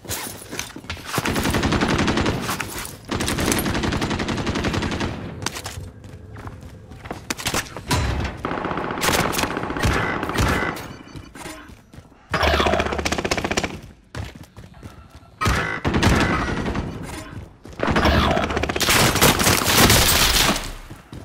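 Gunfire in the Call of Duty: Modern Warfare video game, loud, close bursts of automatic fire and single shots in repeated volleys separated by short pauses, with heavy thuds mixed in.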